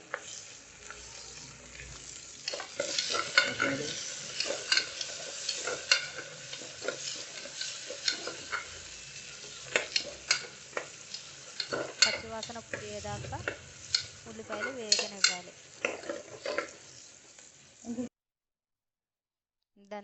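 Green chillies and onions with curry leaves frying in oil for a mutton curry, a crackling sizzle with repeated spatula scrapes and clatter, fairly close, and a voice talking partway through before a sudden cutoff near the end.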